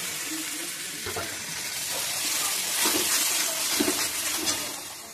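A paste of poppy seed, onion, ginger, garlic and tomato is added to a pan and sizzles steadily nearby, with scraping and stirring clatters over a continuous watery hiss.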